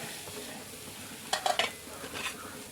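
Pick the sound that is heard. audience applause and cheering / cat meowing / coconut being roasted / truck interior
coconut being roasted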